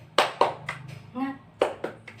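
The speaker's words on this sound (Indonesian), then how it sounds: "kita tepuk semangat dulu yuk" A class does a 'tepuk semangat' clap chant: sharp hand claps in short groups with a gap between them, and a voice chants between the claps.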